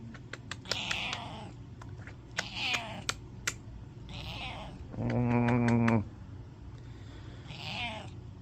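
A pet cat meows repeatedly in a domestic setting, several drawn-out nearby cries spaced across the moment, with a loud, steady buzzing hum in the middle.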